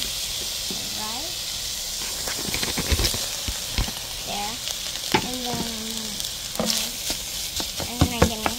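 Rice frying in a pan with soy sauce: a steady sizzling hiss runs throughout, with scattered scraping stir clicks and a voice chiming in at intervals.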